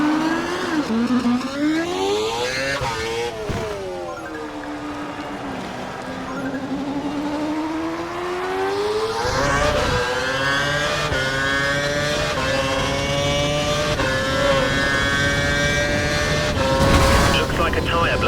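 An F1 car in the F1 2012 racing game, at a young drivers test in Abu Dhabi, whines loudly as it accelerates, with the engine pitch sweeping up and down through the gears while a voice speaks over it throughout.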